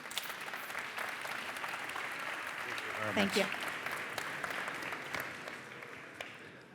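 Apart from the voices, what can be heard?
audience applause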